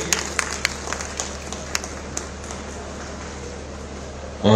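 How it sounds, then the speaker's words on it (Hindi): Applause from an audience at a formal ceremony, a scattered patter of claps with a few sharper hand smacks standing out, moderately distant and fairly even throughout. "जोरदार तालियां होनी चाहिए।"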